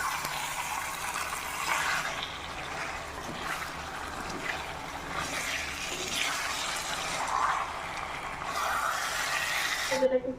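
Tap water running over a tomato as it is rinsed, a continuous splashing trickle that shifts as the hands turn it, close by, ending with a few sharper knocks.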